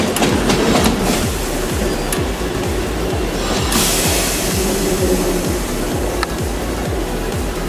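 A train at a railway museum rumbles along with rhythmic clickety-clack wheel beats repeating steadily over a loud, continuous low roar, close by and dominant with no clear talk.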